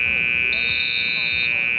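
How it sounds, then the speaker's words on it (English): A loud, steady electronic buzzer sounds at the end of the first quarter of a street basketball all-star game, with a second higher tone joining briefly in the middle, and crowd noise underneath. "At the buzzer there for the first quarter, Nate Brown"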